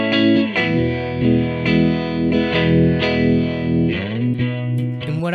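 Guitar chords played through a Fender harmonic tremolo set to 2 hertz at 65% depth, with slow low-and-high pulsing over sustained, slightly distorted strums that change every second or so.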